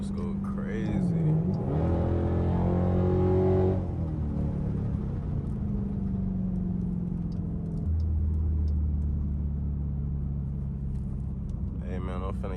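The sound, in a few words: straight-piped Dodge Durango revving and shifting gears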